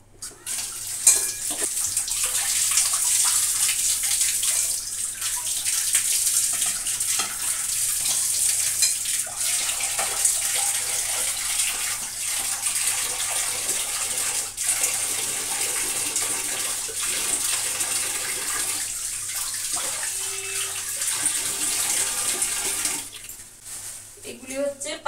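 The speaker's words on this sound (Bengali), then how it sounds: "ট্যাংরা মাছটা একটু ধুয়ে নিই।" Tap water runs steadily over deshi tangra fish being washed in a kitchen sink, a continuous near splashing hiss lasting the whole time with faint clatter, easing off near the end.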